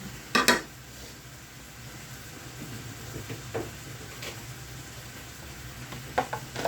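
Tomatoes go into a cooking pan, heard as a few sharp metallic clanks of a utensil against the pan, then quieter scattered clinks over a faint sizzle, with no talking.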